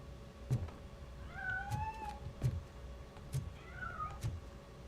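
A cat meows in the video game Robocop: Rogue City, inside a piano, giving two or three faint drawn-out mews over a low ambient hum and soft thumping footsteps.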